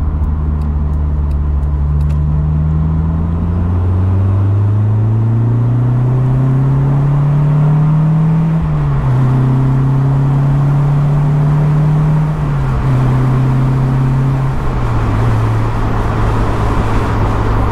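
Inside a Honda S2000 AP1 on the road, a loud steady engine drone rises in pitch, then drops at each gear change, with wind noise rushing over it throughout.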